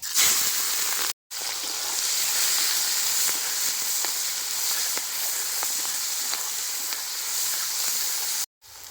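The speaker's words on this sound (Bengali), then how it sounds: "আর চারটা গোটা শুকনো লঙ্কা তেলের উপর দেবো কোচায় রাখা পেঁয়াজ আর কাঁচা লঙ্কা" Cumin, whole dried chillies, onion and green chillies fry in oil for a village-style meat and new potato curry, giving a loud, steady broadband sizzle and hiss with faint crackles, heard close up with two brief cuts to silence.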